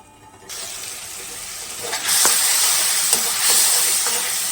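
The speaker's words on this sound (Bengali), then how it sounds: "শুকনো লঙ্কা তেজপাতা আর পাঁচফোড়ন দিয়েছি পরনে একটু ভেজে এখন মশলা দিয়ে কষিয়ে নিচ্ছি" Dried chilies, bay leaves and panch phoron spices fry in hot oil, starting with a soft hiss that jumps into loud, steady sizzling and spitting, with a few brief clinks of stirring.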